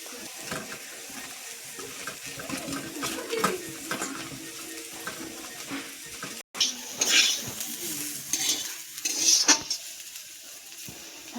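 Eggplant pieces rubbed with salt and turmeric frying in oil in a wok, with a spatula stirring and scraping now and then over a steady, moderately loud sizzle, plus some clinks and water sounds.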